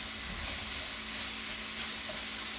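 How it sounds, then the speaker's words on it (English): A pot of white chicken chili gives off a steady sizzling hiss while it is stirred, close and continuous with no talking. "Just give that a stir."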